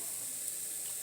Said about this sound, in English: They're sizzling though.